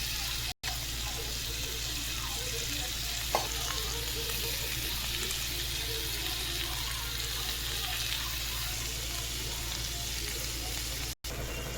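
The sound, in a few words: tomato and spice powders frying in a pan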